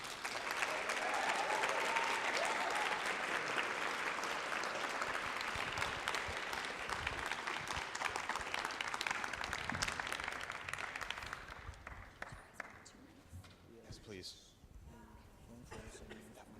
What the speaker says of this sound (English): Some extra applause for our first team,